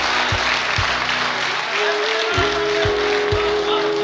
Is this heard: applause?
yes